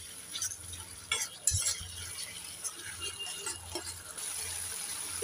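Spices and sugar being stirred in a pan while cooking a bhindi and potato curry, with a scraping, clinking stir and a soft fry underneath, a few louder knocks early on, steady and close.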